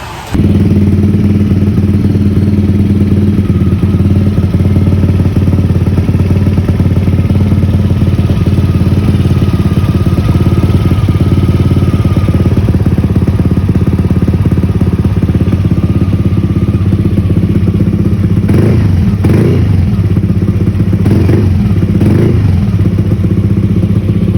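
A Yamaha Aerox 200cc scooter engine idles steadily and close up for a long stretch, then revs in a few quick bursts near the end.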